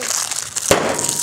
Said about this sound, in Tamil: இந்த மாதிரி வெடிக்கிற பட்டாசு.